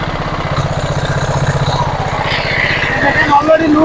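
A 4 hp engine drives a 6 hp alternator, running steadily up close with a pulsing, throbbing rumble throughout; someone talks over it.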